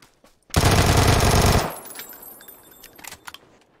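Automatic gunfire in PUBG, a loud rapid burst lasting about a second, then quieter distant shots and rustle trailing off.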